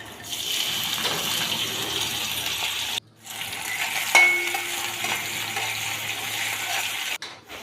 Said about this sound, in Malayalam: കുറച്ച് ഉള്ളി ചതച്ചതും കറിവേപ്പിലയും കൂടി ഇട്ട് വഴറ്റിയെടുക്കാം